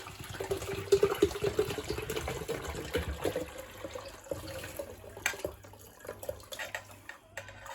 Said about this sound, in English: I'm going to transfer the water from this kettle into this one.